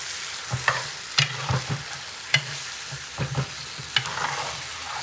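Chicken browns in a frying pan with a soft steady sizzle, broken by scattered scraping knocks as it is stirred and moved around, heard close with no voices.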